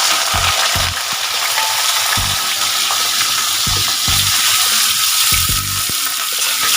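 Mixed vegetables for shukto, including ridge gourd, pointed gourd, green banana, potato and drumstick, fry together in a pan with a steady loud sizzle, broken by repeated bursts of spatula stirring and scraping.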